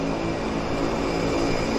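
Turbine engine of a floatplane spooling up at a harbour floatbase, a steady loud broadband roar with a sustained whine, continuous and fairly close throughout.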